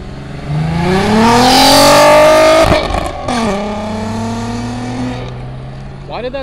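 A Nissan R35 GT-R flies by at a Cars and Coffee meet in Fairfield, Ohio, its loud engine note rising as it approaches and shifting sharply as it passes, then fading into the distance while people talk nearby.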